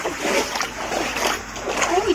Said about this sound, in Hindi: मैं पाव धुला रही हूँ